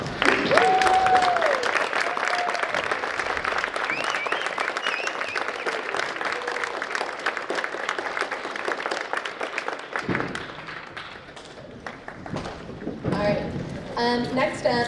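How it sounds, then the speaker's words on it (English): An audience at a school academic awards ceremony stands and claps, producing a dense, sustained roar of applause that continues throughout, with voices talking partly over it. "why don't we stand up and clap for these people that work so hard for all the students in the school"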